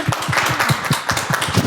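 Clapping from a small group at a cultural forum in Gimhae, a quick run of distinct claps with a steady, moderately loud rhythm and no voices, welcoming a speaker.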